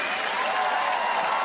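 Dense, even applause fills the hall for the drummer at a concert, a steady wash of many hands clapping that holds at full strength for the whole moment with no voices over it.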